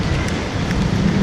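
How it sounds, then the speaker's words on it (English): Heavy rain pours down on a street in the Philippines, a dense continuous hiss of water striking pavement, steady and loud throughout with no voices. "It downpoured and it downpoured hard."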